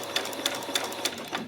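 A sewing machine finishes a seam on a peasant top with a back stitch, giving a short run of evenly spaced mechanical clicks at a moderate level, close by.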